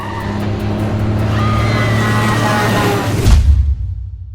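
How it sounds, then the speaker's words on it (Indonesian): A street-racing car in a film revs hard and speeds away, a loud sustained engine roar climbing in pitch, then a sharp burst and abrupt cutoff near the end. "Rick pun mencoba untuk menggeber mobilnya, menjauhi mobil Casey hingga di persimpangan jalan saat lampu merah"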